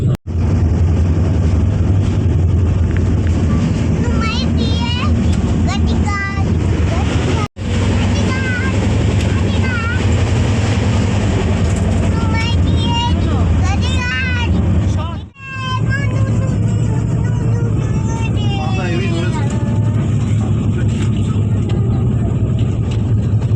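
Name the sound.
riding inside moving train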